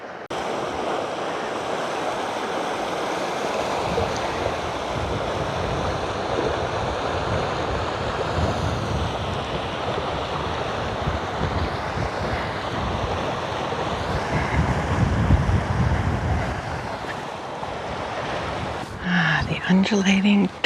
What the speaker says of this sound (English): next to this just exquisite river.